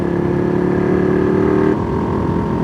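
A car engine drones steadily and loudly from inside the car as it accelerates to overtake on a road in Germany, the pitch holding and then shifting slightly near the end, with no talking.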